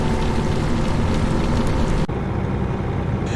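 Steady rain noise in an American Truck Simulator drive from Chicago to Martinsville, a dense continuous hiss over a low engine rumble, briefly dipping about two-thirds through and then carrying on.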